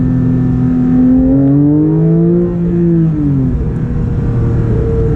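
Loud, close Porsche 992 GT3 engine revving up in sport mode, its pitch climbing smoothly and then dropping back as it shifts, over a constant road roar.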